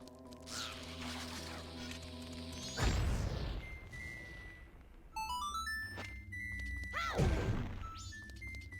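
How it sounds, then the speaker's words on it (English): Blast Mask explosion in the Zelda: Majora's Mask game, a sudden loud blast burst with a crashing thud midway, then a second heavy impact, set against game music and chiming effects. "let's actually use the blast mask"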